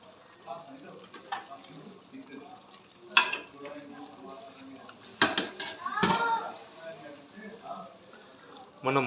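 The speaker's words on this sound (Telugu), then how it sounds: "ఒకసారి మళ్ళీ కలుపుకుందాం." A metal spoon scrapes and clanks against a cooking pot while mutton curry, Telangana style, is stirred, with a few sharp louder knocks near the middle amid softer scraping and light background sounds.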